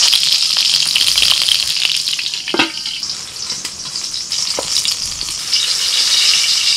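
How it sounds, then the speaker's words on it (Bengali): Eggplant slices frying in hot oil in a wok, a steady loud crackling sizzle throughout with a couple of brief clinks, no talking. "কড়াইতে তেল গরম হয়ে গেছে, বেগুন ছেড়ে দিচ্ছি"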